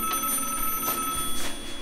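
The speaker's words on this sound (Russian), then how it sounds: "Слышите, звонит этот телефон." A telephone rings in a real-life escape-quest setting, a steady electronic ringing pulsing a few times, fairly loud and alone with no talking.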